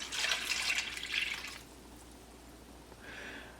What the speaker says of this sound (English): And then we are going to add 2 cups of chicken stock.